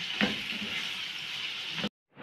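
Palak paneer sizzles steadily in a pan as it cooks, a continuous close frying hiss with a brief clatter near the start before cutting to silence.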